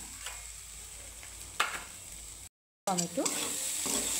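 Chopped tomato sizzles and is stirred in hot oil in a pan while cooking children's dalia khichuri, a steady frying hiss with a few sharp scrapes, a brief dropout, then a louder stretch with a voice faintly over it.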